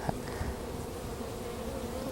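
A steady, droning hum of many honey bees buzzing close by at an open hive during an inspection, continuous and even with no talking.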